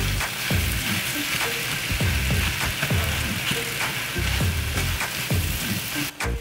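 Seasoned ground turkey fries in a pan with a steady close crackling sizzle, and a utensil scrapes through the meat in a repeated stirring rhythm.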